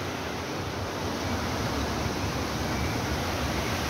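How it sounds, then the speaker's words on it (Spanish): A flowing stream beside a footbridge in a park makes a steady, broad rushing wash of water, dense and constant, heard up close with no voices. "Oh, es qué preciosidad de arroyo,"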